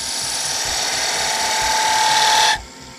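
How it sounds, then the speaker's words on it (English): A wooden child's toy top spins on a woodturning lathe while grooves are burnished into it, giving a loud, steady near friction screech and whine that runs continuously and then stops abruptly just before the end. "And I'm burnishing, essentially, the grooves in. So you might hear a loud noise."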